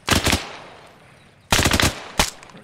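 Automatic fire from a machine gun suppressing enemies in ArmA 3: a loud sustained burst, a pause, then another long burst and a short final burst, each close and punchy.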